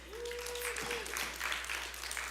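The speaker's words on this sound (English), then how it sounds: "a round of applause" A room of attendees at an annual meeting breaks into sustained applause for Deborah Jackson and her committee, a broad wash of clapping heard at a moderate distance, with a faint hum beneath and a brief vocal tone near the start.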